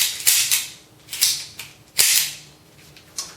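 A WE Silver Sword Cutlass M9 airsoft pistol with a longer slide fires several sharp, crisp cracks at irregular intervals, loud and close, each shot paired with a snappy mechanical clack of the slide and no voices between.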